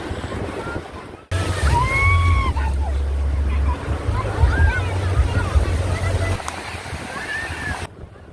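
A passenger boat off Kozhikode beach pushes through sea waves, its steady low engine rumble running loud and close beneath crashing surf and gusting wind. The sound starts abruptly and cuts off near the end.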